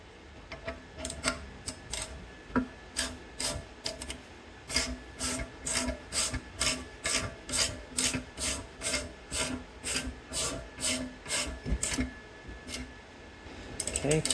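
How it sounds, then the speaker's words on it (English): Threaded rod of a ball joint press tool being tightened during a 2003-2007 Honda Accord front lower ball joint replacement, giving a steady series of about twenty rhythmic ratcheting rasps, close and fairly quiet. "as I tighten down the threaded rod, it's going to pull this back this way"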